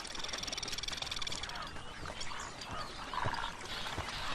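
A large flock of birds feeds on fish in an African river, making continuous splashing, churning water and scattered calls that stay fairly loud and constant throughout.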